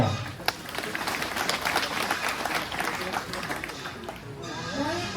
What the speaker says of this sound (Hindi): हमारा जोरदार ताली के साथ धन्यवाद।